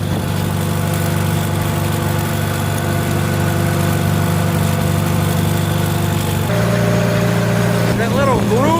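Farmall H tractor engine idling and running steadily at close range, a constant low mechanical drone with a slight shift in pitch and tone near the end.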